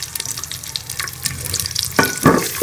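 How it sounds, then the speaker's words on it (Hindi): Onions browning in ghee in a cooking pot, a loud close crackling sizzle with stirring scrapes and a couple of louder bursts near the end. "इनके अंदर हम ये प्याज डालेंगे और इसको ब्राउन कर लेंगे।"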